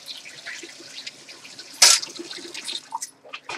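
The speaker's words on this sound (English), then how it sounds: "my fingers are all yucky, so I'll rinse them off. And I'll rinse out the spoon" Water runs from a kitchen tap to rinse fingers and a spoon. A brief, fairly loud gush is surrounded by quieter splashes and drips, with no talking.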